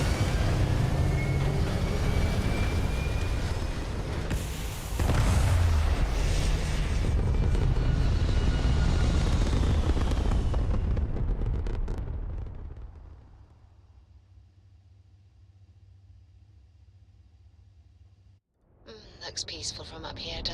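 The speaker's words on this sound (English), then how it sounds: "All thrusters firing." Spaceship thrusters fire in Starfield with a loud, sustained roaring rumble that fades into a quiet low hum after about twelve seconds, then a brief burst of hiss returns at the end.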